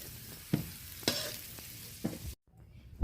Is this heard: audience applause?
no